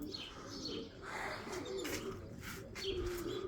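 Pigeons coo softly and repeatedly, with a few chirps mixed in, at moderate distance against steady background noise.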